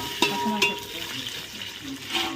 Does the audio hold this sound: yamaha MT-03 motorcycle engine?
no